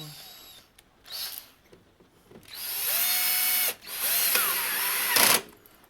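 A small electric screw gun with its clutch set very light drives screws while a Marshall DSL100H amplifier is reassembled. Close whining bursts of the motor rise and stop, with faint clicking between them.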